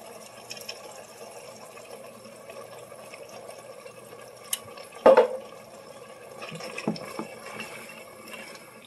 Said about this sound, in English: Now we're going to add the Prego meat sauce.